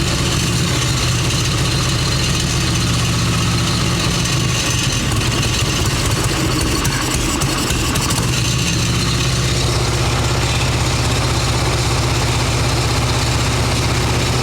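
A 1989 Harley-Davidson Ultra Classic bagger engine idles on full choke, loud and close with a deep, continuous rumbling throb that stays steady, slightly lumpy in the middle.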